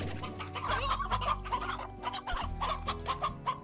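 Chickens cluck repeatedly in a busy, overlapping flock on a farm in Slime Rancher, a steady stream of loud, close clucks with no talk.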